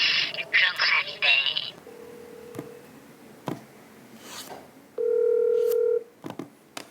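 A telephone is dialed with a quick run of keypad tones, then a steady single tone sounds, and after a pause a longer tone follows, with faint clicks between them, all close and clear.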